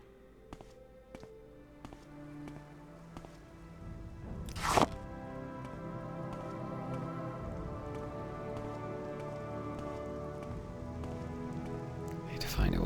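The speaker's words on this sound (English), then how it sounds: "Need to find a way out of the rain as early as I can." Steady rain patters continuously on a surface in The Elder Scrolls III: Morrowind, with a few sharp taps and a loud thud partway through, alongside a soft low hum.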